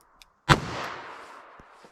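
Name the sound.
38 Special revolver gunshot, 4-inch barrel, American Eagle LRN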